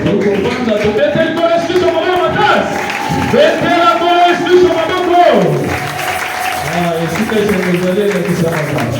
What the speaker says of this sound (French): nous acclamons très fort pour nous